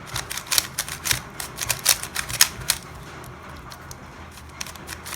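A Yuxin Kylin V2 M magnetic speedcube is shuffled by hand, a rapid run of crisp plastic clicks and snaps close up, then the turning stops and quiet follows.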